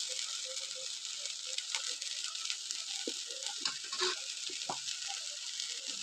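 Amaranth stem greens sauté in an open pan with a constant soft sizzle and a few light stirring clatters, close and fairly quiet.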